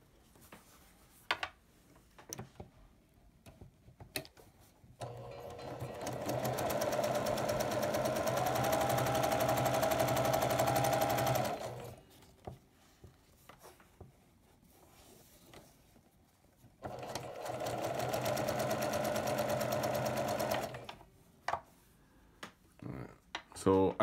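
A sewing machine with its tension set way off stitches quilt pieces at a quarter inch seam, running in two sustained buzzing bursts with scattered clicks and fabric handling between them.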